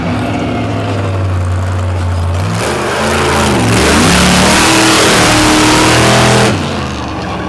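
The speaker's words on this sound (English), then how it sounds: "Basil, he has the truck back together, and he is ready for freestyle to open up this competition with a big Ford out of Indiana" A big Ford monster truck from Indiana revs hard at a 2023 All Star Finals freestyle competition. The loud engine roar climbs and swells in pitch, then holds at full throttle for several seconds with no talk over it.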